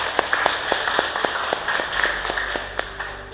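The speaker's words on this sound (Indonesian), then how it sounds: "beri tepuk tangan untuk Bagas." A small classroom group gives a brief round of scattered hand claps, fairly quiet and sparse, lasting a few seconds with no talking.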